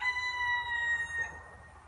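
A pet duck calls out in the morning with one drawn-out, tonal honking cry that fades away, heard alone and fairly close.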